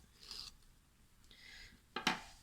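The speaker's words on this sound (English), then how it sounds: "I will remove the tape backing of this part" Tape backing is peeled off a paper craft piece, giving a few short, faint, close rasping strips followed by a sharper crinkly snap at the end.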